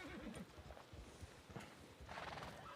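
Horse neighing and hooves clip-clopping in the RedM (Red Dead) video game, a steady stream of hoof beats running throughout with a brief whinny near the end, fairly close and prominent.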